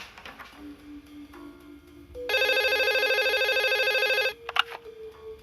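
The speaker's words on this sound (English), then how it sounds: "I should probably pick up that phone." A telephone rings in a quiet office, a steady electronic trill lasting about two seconds, loud and close, followed by a brief clatter as if the handset is lifted.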